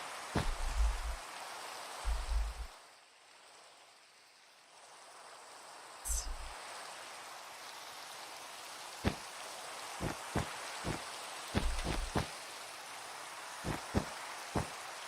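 Steady Minecraft rain hisses as a soft, continuous wash, with sharp clicks and thumps from in-game actions scattered on top of it.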